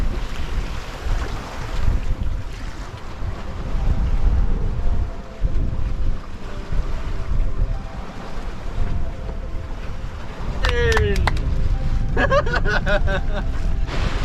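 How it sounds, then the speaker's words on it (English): A sailboat crossing the open Pacific in trade winds at about five knots: loud, steady wind buffeting and rushing waves fill the whole stretch, with a few brief high squeaks near the end. "Just can't get better than trade wind sailing."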